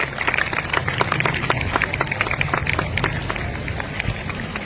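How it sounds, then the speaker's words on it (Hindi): Dense, loud clapping from a crowd of schoolchildren at a school Independence Day celebration at an Anglo Urdu high school, sharp claps rattling steadily throughout without letup, with a faint murmur of voices beneath. "सो जल्दी क्लैप करो, जोर से एकदम अच्छे जोर से आवाज आनी चाहिए"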